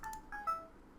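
A mobile phone giving off three short electronic tones in quick succession, faint and close, like keypad or notification beeps.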